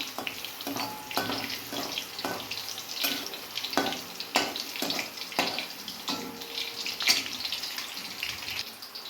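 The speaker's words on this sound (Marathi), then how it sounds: "आपण ह्याच्यामध्ये लसणाच्या पाकळ्या टाकूया कढीपत्ता टाकूया हा लसूण चांगला फ्राय करून घ्यायचा" Garlic cloves and curry leaves frying in hot oil in a pan, a steady bright sizzle with scattered pops and crackles throughout, fairly close and with no voices.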